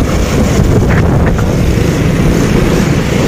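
Strong wind roars steadily against the microphone at an outdoor kite-chasing spot in a town, a loud continuous broadband rush with faint gusty swells and no voices.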